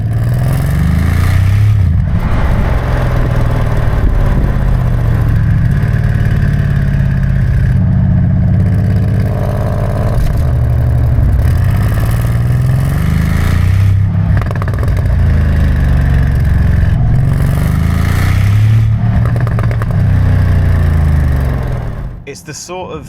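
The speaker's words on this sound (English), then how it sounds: "It's the sort of exhaust burble that you'll never get tired of." Bentley exhaust burbling steadily at close range, a deep continuous rumble with rolling swells and crackles, while a voice talks over it throughout.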